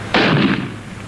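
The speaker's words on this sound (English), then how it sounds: "These are live bullets he's firing." A single loud burst of gunfire from a 1959 naval comedy film, a sharp blast that fades out over about a second.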